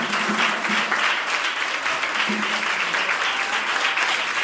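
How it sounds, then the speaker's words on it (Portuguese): Worshippers in a church service clap together in a sustained, full round of applause, loud and close, holding steady for the whole stretch. "Agora eu quero que você aplaude a Jesus com bastante palma e glória a Deus."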